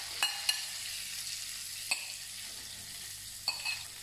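Sweet peppers stir-fried with tofu in a pan, a faint steady sizzle with a few sharp clicks of a utensil against the pan at intervals.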